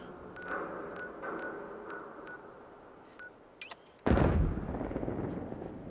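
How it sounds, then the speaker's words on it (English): Distant muffled booms and sharp cracks in sporadic bursts in a VR video game, then a sudden loud, close explosion followed by a rumbling roar. "Let's find out what those explosions are."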